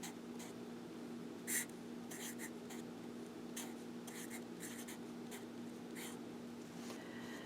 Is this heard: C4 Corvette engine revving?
no